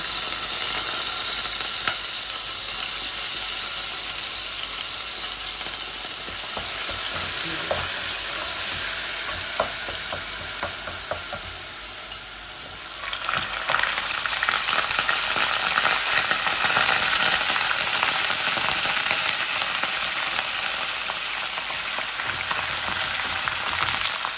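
Blended onion paste frying in hot oil after dried spices have reddened, giving a loud, steady sizzle that swells into a harsher, louder crackle partway through, with occasional stirring scrapes and no talk.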